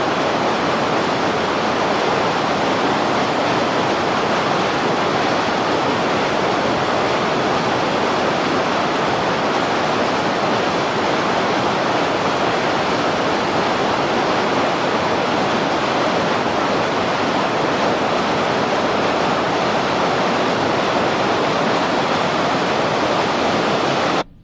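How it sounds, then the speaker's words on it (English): A small stream runs strong and ferocious, a loud, steady broadband rush of water that holds constant throughout with no voices. "that water is really kind of really strong here and kind of ferocious, and yet this is just kind of like a little stream"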